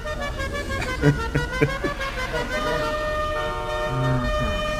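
A car horn in GTA 5 Online blares in a sustained tonal blast with shifting pitch, loud and continuous over engine-like rumble, with short bursts early on.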